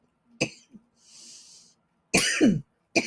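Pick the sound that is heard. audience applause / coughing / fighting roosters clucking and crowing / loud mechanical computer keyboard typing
coughing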